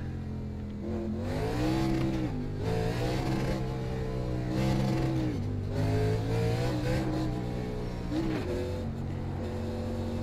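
A K&N National Series stock car at South Boston in the iRacing sim revs and shifts repeatedly, its engine rising in pitch through several gears with brief dips between, loud and continuous.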